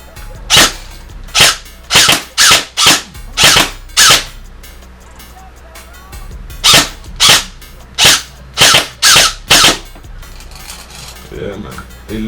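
A G&G CM16 Raider 2.0 airsoft electric rifle fires BBs at targets in sharp single and double shots, a cluster of six or so, then a pause and another run of about six, all close and loud.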